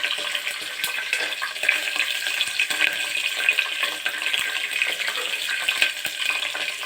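Chopped green chillies sizzling in hot oil in a pan for upma, a steady close hiss of frying throughout with faint clinks, no talk.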